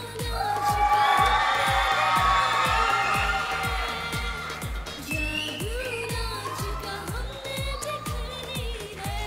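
Crowd cheering and applause at a Bollywood-style dance competition in Arunachal, swelling loudly in the first few seconds, then tapering off as a steady thumping music beat carries on underneath.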